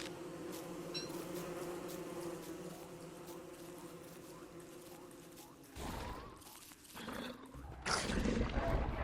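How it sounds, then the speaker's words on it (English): Killer bees buzz in the survival game Don't Starve, a steady droning hum that holds at moderate level, giving way to rougher game noises near the end. "I hate killer bees."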